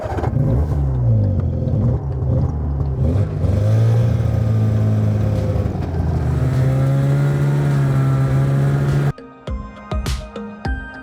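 A boat motor on Lake of the Woods roars loudly and steadily, rising in pitch as it accelerates, then cuts off abruptly to wind and rattling noises in cold, windy weather.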